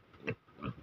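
A pig in its pen with a plywood roof gives two or three short, close grunts in quick succession.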